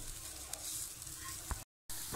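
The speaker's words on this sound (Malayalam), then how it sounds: "ഇനി നമുക്ക് അത് നല്ലോണം ഒന്ന് ഇളക്കി കൊടുക്കാം." Spices frying and being stirred in a pan while making potato balls: a steady, fairly quiet sizzle with a few faint scrapes, cut off briefly near the end.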